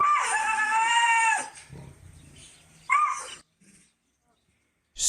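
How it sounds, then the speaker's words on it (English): An eight-month-old Amur tiger cub at a Siberian zoo makes odd, funny vocal noises: a long, tonal, wavering call followed by a shorter one, separated by quieter gaps, heard nearby. "The cub makes these funny noises to get mom's attention."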